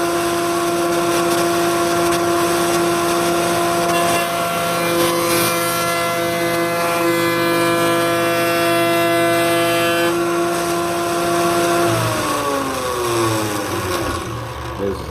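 A router fitted with a Freud raised panel bit runs at full speed with a loud, steady high-pitched whine, then winds down in pitch near the end as the motor slows.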